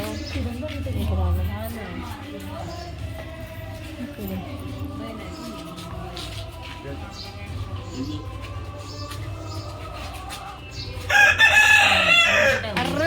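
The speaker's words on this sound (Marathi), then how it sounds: "कोंबड्या आहेत कोंबड्या गुड मॉर्निंग बोलला" Roosters crow and hens cluck around a family home in the morning, with steady bird calls under continuous nearby talk and a louder crow near the end.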